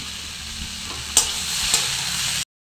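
Snake gourd cooking in a pan with chopped onion, tomato, ginger and garlic, a steady close sizzle with a couple of sharp stirring scrapes, no talking.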